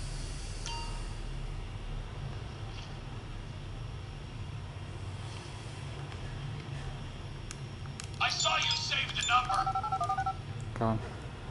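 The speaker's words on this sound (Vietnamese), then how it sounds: "Giờ nghe điện thoại." Phone call sounds play in the GTA V video game, running on a GPD Win handheld: a short burst of electronic dial and ring tones rises near the end over a steady low game and room drone, with someone talking across it.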